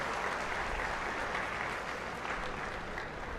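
Steady applause from a seated crowd at a BJP state working committee meeting in Telangana, a continuous even wash of clapping heard from some distance, moderately quiet and unbroken throughout.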